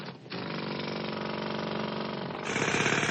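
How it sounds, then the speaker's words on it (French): Pneumatic jackhammer hammering at a rapid, steady rate of about 2000 blows per minute inside a mine, a loud, dense, continuous rattle that grows slightly harsher and louder near the end. "Et le marteau-piqueur, il frappait à une cadence de 2000 coups minutes."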